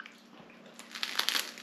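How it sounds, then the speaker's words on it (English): Crisp crunching bites into homemade sausage-topped pizza crust baked in cast iron, a few irregular crackly bursts growing louder toward the end, close and alone without talking. "Oh, you can hear that crunch."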